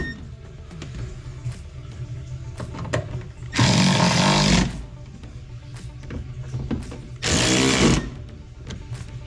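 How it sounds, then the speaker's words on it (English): Screws are driven into a plastic speaker mount on a Mini Cooper R53 car door with a power driver, giving two loud, roughly one-second whirring bursts over quiet handling noise and small clicks. "Once the screws are all lined up, we'll tighten it all up."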